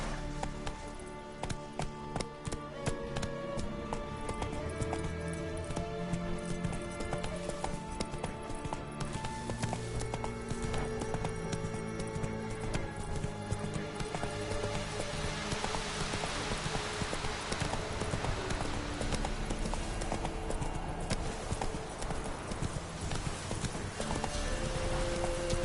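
Hoofbeats of the horse Roach in The Witcher 3, a steady clip-clop trot running the whole time under constant game music, with no speech.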